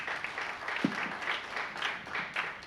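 Audience applause at an evening speaker event in an office: a continuous patter of many hands clapping at moderate volume, with a few sharper individual claps.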